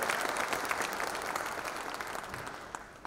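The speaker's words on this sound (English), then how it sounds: "So big round of applause for our chief guest." Audience applause for the chief guest at a formal industry event, a full room clapping in a dense, sustained wash that slowly tapers off, with no talking over it.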